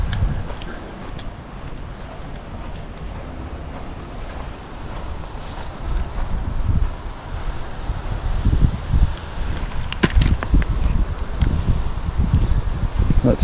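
Wind gusting past the microphone beside a fishing pond, with steady broadband rushing and leaf rustle that grows stronger and more buffeting in the second half.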